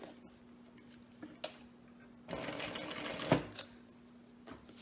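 A sewing machine stitching a mini quilt block, heard as a steady, fairly close mechanical run with a louder burst of stitching midway and a few light clicks of handling around it.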